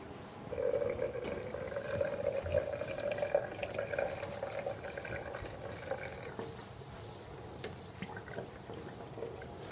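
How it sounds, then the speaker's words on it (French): Water rinsing a tub used for manual endoscope reprocessing, a continuous soft splashing and trickling close by, fairly quiet and steady with no talk. "Je rince mon bac pour enlever tous les résidus"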